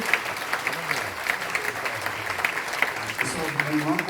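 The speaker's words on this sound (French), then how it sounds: "Applaudissez Jésus encore une fois." A church congregation applauds during a pastor's testimony service: clapping in fairly regular rhythmic bursts with a crowd murmur and voices underneath.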